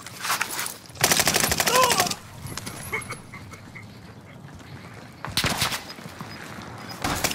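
Bursts of automatic gunfire in the Call of Duty: Modern Warfare video game, loud rapid volleys that come and go in separate bursts, with quieter stretches of background game noise between them.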